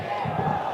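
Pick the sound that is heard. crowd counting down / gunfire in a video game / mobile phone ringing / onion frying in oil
crowd counting down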